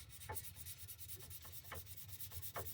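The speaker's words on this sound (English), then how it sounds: "I'm scuffing up the white paint and a little bit of the purple" Paint on a surface being scuffed by hand with sandpaper, roughing up white and purple coats in a quiet, steady rubbing rasp with a soft back-and-forth rhythm throughout.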